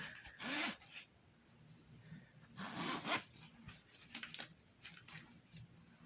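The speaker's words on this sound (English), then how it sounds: "Oh, this is for the zipper." Two or three quick zipper pulls on a Beats Solo headphone case rasp close by, short bursts separated by quiet rustling and faint handling noise.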